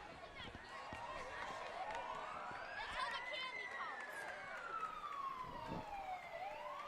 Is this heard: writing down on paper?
no